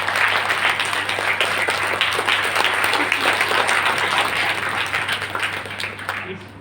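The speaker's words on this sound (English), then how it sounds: "Can you give a big round of applause?" A sustained round of applause from the audience at an entrepreneurial skills training session at UHS Bagalkot, dense and even clapping that tapers slightly toward the end, over a constant low hum.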